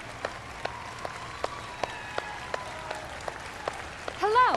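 Sparse applause from a small in-game audience at a live music show in Red Dead Redemption 2, with scattered individual claps at a steady pace and a brief burst of a voice and sound near the end.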